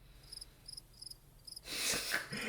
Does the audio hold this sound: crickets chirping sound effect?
yes